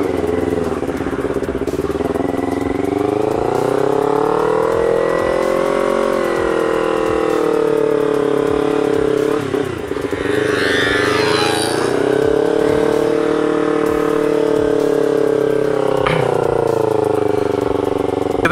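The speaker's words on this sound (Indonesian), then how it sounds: "Kita nyobain gas-gas tipis aja ya, kita wheelie-wheelie sedikit lah" A motorcycle on a road racing circuit revs and accelerates in repeated surges, its loud engine note rising and falling with the throttle, close to the microphone and continuous throughout.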